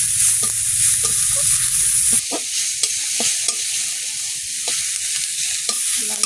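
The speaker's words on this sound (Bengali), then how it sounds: "পেঁয়াজ, রসুন কুচি, কাঁচা লঙ্কা সব একবার দিলাম।" Chopped onion, garlic and green chilli hit hot oil in a pan, giving a loud, steady sizzle that continues throughout, with the scrape of stirring over the top.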